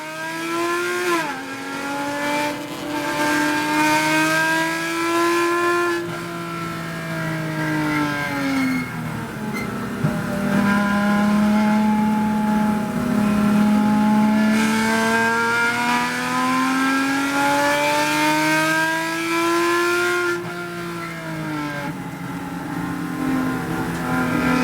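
Race cars circle a track counterclockwise at Indy on a very hot day, with a loud, continuous engine roar that rises and falls in pitch as the cars accelerate and ease off through the laps.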